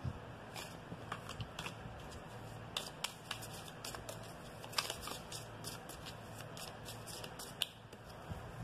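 A deck of oracle cards is shuffled by hand close by, giving soft, steady riffling with scattered sharper card snaps, quiet and without talk.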